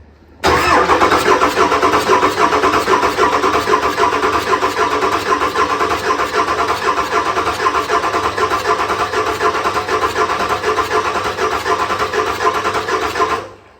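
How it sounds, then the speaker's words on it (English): A Ford 7.3 diesel engine running rough and smoking is cranked over and catches, settling into a loud, steady, close-up roar that holds for many seconds before cutting off abruptly. "I'm about to turn this motor over"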